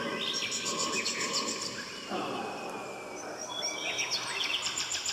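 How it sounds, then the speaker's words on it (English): Many birds chirp and twitter as jungle sound effects in an exotica song, with dense overlapping calls layered over a full, steady musical and ambient wash throughout. "lots of birds."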